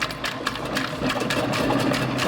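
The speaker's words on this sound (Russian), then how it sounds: "Слышно, как он раскрутил сильно диски." A Neatsvor U1 MAX robot vacuum spins its mop discs hard, a steady dense whirring churn with rhythmic sloshing pulses throughout, close and loud, no talking.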